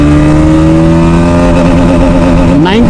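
A Bajaj Pulsar NS200 motorcycle accelerating hard, its engine drone holding a loud, steady pitch before rising sharply near the end, with heavy wind noise and no clear speech.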